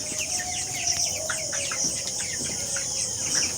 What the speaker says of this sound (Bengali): তার আগে একটা মুরগি দেখাই